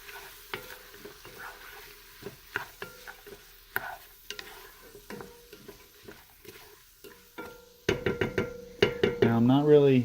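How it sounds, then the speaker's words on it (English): Carrots and green peppers sauteing in a pan, quiet intermittent sizzle broken by sharp scraping stirs and utensil taps, growing louder and busier toward the end. "let it saute for a little bit."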